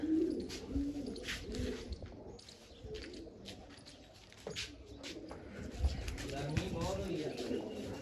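Pigeons cooing at a rooftop loft, their low murmuring coos running near and continuous while someone talks over them, with faint chirps and a few knocks in the background.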